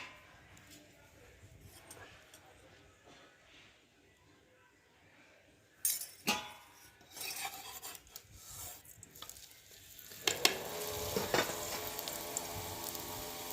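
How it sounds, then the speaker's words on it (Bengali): Radish paratha fries in oil on a griddle. A quiet stretch gives way to sudden sizzling bursts, then a louder, sustained sizzle with scraping and rubbing sounds from a spatula. "পরোটাগুলো একটা একটা করে ভেজে নেবো চাটুতে দিয়ে"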